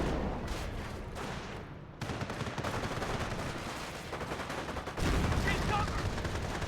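Battle fire in Company of Heroes, a US rifle squad against a .30 cal machine gun, with dense overlapping gunshots and bursts and a few heavier booms, loud and continuous, under a commentator's voice.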